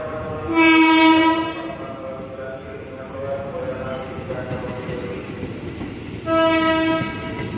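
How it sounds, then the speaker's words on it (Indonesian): A KRL commuter train rolls into platform 1 at Manggarai station, sounding two loud horn blasts, one near the start and one near the end, over a continuous rumbling of wheels and carriages. "KRL masuk ke jalur 1"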